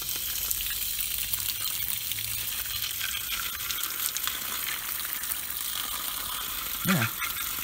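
Air splutters and hisses through a newly fitted outside water tap, a continuous harsh rushing sizzle heard close up, with a brief low gurgling burst near the end.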